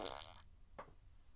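A voice imitates a fart with a single short, raspy burst, preceded by a brief hissing sound, in a comedy setting about farting on a plane.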